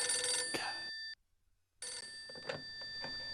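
A telephone rings in the video game Phantasmagoria 2, a loud electronic ring that cuts off briefly into silence and then resumes, with no talk over it.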